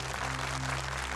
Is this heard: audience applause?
yes